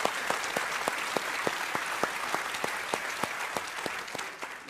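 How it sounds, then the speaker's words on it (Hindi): A television debate studio audience claps in a brisk, moderately sized round of applause, steady and fairly close, with a few sharp individual claps standing out above the crowd. "बजाइए ताली जोर से।"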